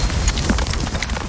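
Incendio fire spell cast in Hogwarts Legacy, a dense whooshing, rumbling burst of flame sustained across the moment, with game effects layered on top and no clear talk.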